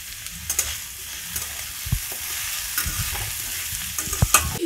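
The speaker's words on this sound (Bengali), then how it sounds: "হালকা ভেজে নিয়েছি, এবার আমি গাজরগুলো দিয়ে দেব।" Mixed vegetables lightly frying in a pan as carrots go in, a steady gentle sizzle broken by several spatula scrapes and knocks against the pan, close and moderately loud.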